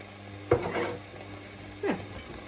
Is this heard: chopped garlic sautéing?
yes